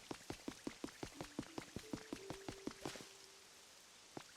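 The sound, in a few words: rain falling in a video game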